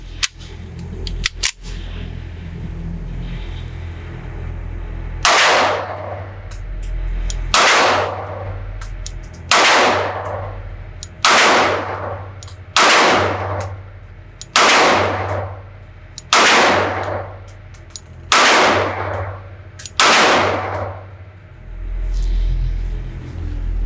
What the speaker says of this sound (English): let's now put our first rounds down range